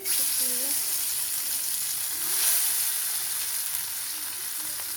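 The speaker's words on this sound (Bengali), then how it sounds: "এখন আমি ফ্রাই প্যানে দিয়ে দিব। ফ্রাই প্যানে তেল গরম করে নিয়েছি" Bata fish fries in hot oil in a frying pan, giving a loud, steady sizzle and crackle that hisses continuously close by, with a faint voice briefly underneath.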